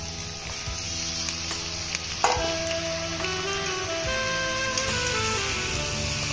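Chopped chili peppers frying with onions in a hot pan for a desi-style mutton curry give a loud, continuous close sizzle with scattered crackles and a brief clatter of the spatula partway through, no voices.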